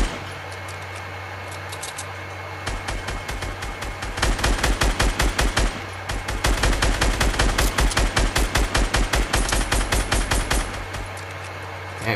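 Rapid automatic gunfire rips through a tree in Fortnite, with long loud bursts of rattling shots broken by short pauses and a steady low game hum underneath.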